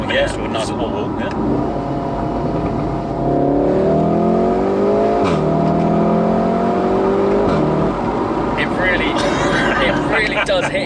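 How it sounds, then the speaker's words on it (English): Exhaust of a VW Golf R with a twin-clutch gearbox, loud and close, revving with rising engine tones that break into pops and crackles between shifts, with people talking over it. "The farty noise is always great in a twin clutch car anyway, but that's very cool."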